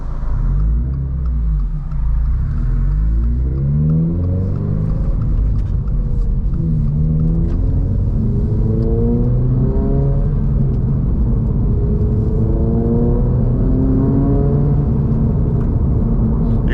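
Inside a moving 2024 Subaru BRZ Limited, a steady road rumble and engine hum fill the cabin as the engine pitch climbs and falls through gear changes.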